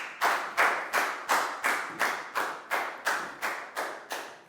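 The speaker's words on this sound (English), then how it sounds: "Big round of applause for Bangpon" A classroom of Year 4 students claps for a classmate in a steady, rhythmic unison beat, about eleven crisp claps evenly spaced over a few seconds, fairly close and with no talking.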